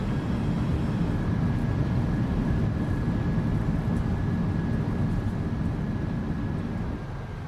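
Airliner thrust reversers roaring on landing in the PMDG flight simulator, a loud, steady broadband rush that holds for several seconds before easing slightly at the end, with no talk.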